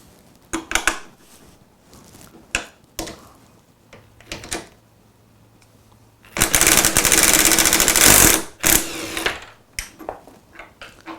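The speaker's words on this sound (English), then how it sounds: "So let me go back to the impact driver to remove this." A Festool Ti-15 hybrid impact driver removing a stuck fastener, with a loud burst of rapid impacting lasting about two seconds, set among scattered nearby clicks and knocks of handling.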